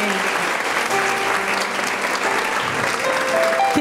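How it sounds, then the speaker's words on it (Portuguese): Congregation applause during an evening women's church service, dense steady clapping filling the room from start to finish with faint voices mixed in, fairly loud and even. "E eu quero que vocês possam dar uma salva de palmas nessa noite"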